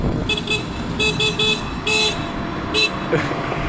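Several short car horn toots in quick irregular bursts, fairly close, over a background of traffic and engine noise.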